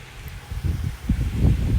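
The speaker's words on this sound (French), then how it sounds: "Oh, les rafales, regardez." A gusty west wind blows at a weather station, low rumbling gusts buffeting the microphone and rising and falling in surges, fairly loud and without speech.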